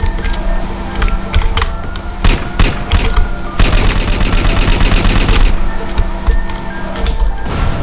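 Rapid automatic gunfire and scattered single shots in the video game GTA San Andreas, loud and dense, with bursts of sustained firing mixed with sharp isolated cracks throughout.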